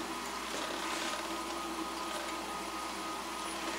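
A Delta saw's electric motor, driven at low frequency by a DC variable-frequency drive, runs slowly with a steady whirring hum and a faint fan whoosh, constant and close in a workshop.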